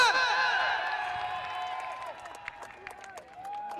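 Crowd applause at a kabaddi tournament in Punjab, a dense wash of clapping and cheering that fades gradually over a few seconds, with melodic tones ringing above it.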